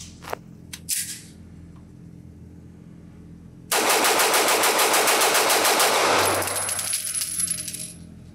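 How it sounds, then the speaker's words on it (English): A Staccato C2, a compact 2011 pistol, fired in a fast mag dump at a range: a few scattered clicks and clatter, then a loud, unbroken string of rapid sharp shots lasting about three seconds before the fire stops and the noise fades. "I'm just going to do a complete mag dump with it"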